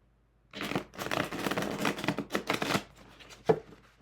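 A thin historic deck of playing cards is shuffled slowly at close range: a run of dense, papery riffling bursts with brief pauses between them, then a few sharper taps near the end, with no talking.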